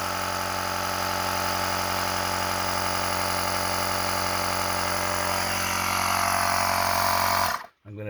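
A coin-operated air compressor inflates car tires, running as a steady, loud, continuous motor drone with a strong hum that holds for several seconds, then cuts off sharply near the end.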